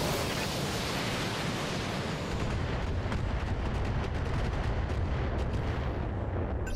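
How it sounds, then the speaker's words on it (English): Salvo of LRM missiles launched and impacting in the Battletech video game, a dense continuous roar of overlapping blasts and rumbling booms, loud and sustained throughout with no talk. "fire all the LRMs at this one"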